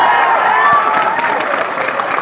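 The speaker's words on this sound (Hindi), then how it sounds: "अरे बजाओ ताली यार" An audience at a training session bursts into applause, a dense wash of clapping throughout with faint crowd noise and possible voices underneath.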